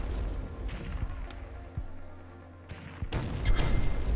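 Several grenade explosions go off in the video game Tokyo 42, loud low booms spaced irregularly, with a heavier cluster of blasts near the end.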